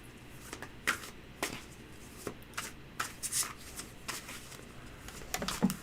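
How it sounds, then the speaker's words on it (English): Tarot cards are shuffled by hand near the microphone in a steady series of soft riffling and sliding bursts, irregularly spaced and fairly quiet, with no talking over them. "Do you want to shuffle once and I'll cut them?"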